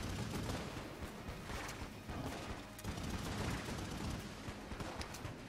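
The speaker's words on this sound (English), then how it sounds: "I'll be expending the Yari launcher, which will give me my best chance to flawless." Yari launcher from Enter the Gungeon firing during a boss fight, a dense, continuous barrage of rapid shots and explosions that stays loud and steady throughout with no talking.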